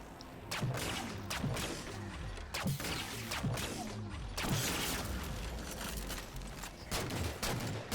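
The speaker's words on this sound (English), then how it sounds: "using the beam rifle against knights is a bit of a fun change-up" Beam rifle fire in Halo Spartan Ops during a fight against Knights, heard as sharp, spaced cracks with explosive impacts over busy combat noise.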